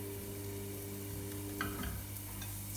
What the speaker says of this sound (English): I'm gonna roast this red onions or shallot